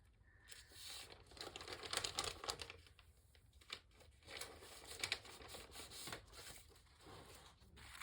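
Tea-dyed paper being handled and crinkled while pieced into a fall journal: a close, quiet stretch of bursts of rustling and crumpling with brief pauses and no talk.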